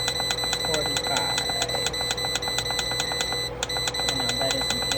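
A kitchen timer beeps in rapid repeated electronic chirps as it is set, steady and fairly loud over a constant humming background, with no voices.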